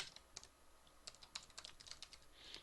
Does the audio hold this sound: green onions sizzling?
no